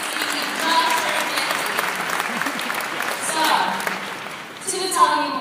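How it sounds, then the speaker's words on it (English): Crowd applause during a university new student day celebration, with steady clapping rising and falling in a few swells while voices talk and cheer over it. "Give it a round of applause"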